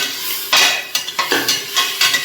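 Onions sautéing in butter in a pan while making a paneer veg biryani, with a steady bright sizzle broken by several scraping stirs, close and fairly loud, no talking.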